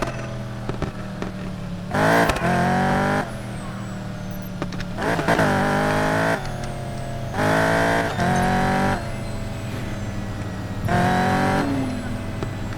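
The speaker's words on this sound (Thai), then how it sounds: "เพื่ออยากให้คนดูฟังเสียงเครื่องของรถคันนี้" Chevrolet Camaro Z28 engine in Need for Speed Payback, revving in four loud bursts that rise in pitch through the gears, each dropping back to a steady idle drone between.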